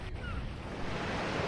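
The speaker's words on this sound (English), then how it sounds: "I tried to make sure that when a wave did hit, it lined up with a peak in the audio file" Ocean waves for a 3D audio sound effect give a continuous wash of surf with some wind noise, steady and fairly close.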